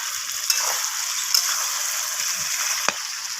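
Goat meat curry with a little sugar sizzles steadily in a pan as it is stirred, a constant close frying hiss broken by a few sharp spatula scrapes and clicks against the pan.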